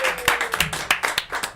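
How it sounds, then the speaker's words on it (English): Blake Harrison clapping his hands at a War Child FC FIFA 19 tournament, a quick run of about a dozen sharp, close claps in uneven rhythm. "Yes, Blake, you can clap yourself."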